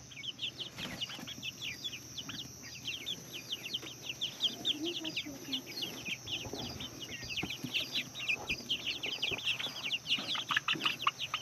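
Laying hens cluck and chatter in a newly built chicken coop, a dense near chorus of repeated clucks that grows busier toward the end, with occasional voices faintly in the background.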